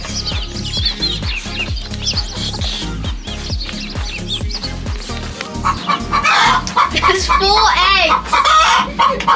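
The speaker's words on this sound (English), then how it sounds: "They've recaptured the three hens." Hens cluck and squawk nearby, growing louder and busier toward the end, over a rhythmic thumping background and some talking.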